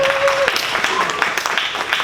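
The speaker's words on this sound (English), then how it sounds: "Give them a round of applause" A church congregation applauds a worship team, a dense wash of clapping filling the room throughout, with a voice speaking briefly over it.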